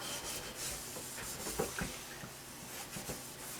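A wok with a wooden handle is washed by hand, with soft scrubbing and rubbing and a few light knocks, close and fairly quiet.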